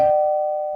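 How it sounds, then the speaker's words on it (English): A toy truck's electronic doorbell gives a single sustained chime, a clear steady tone that rings loudly on its own and slowly fades. "Doorbell?"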